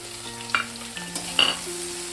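Dried shrimp frying in a pan with five-spice seeds, a steady hiss of sizzling oil broken by a few sharp stirring scrapes and clinks, close and moderately loud with no talk.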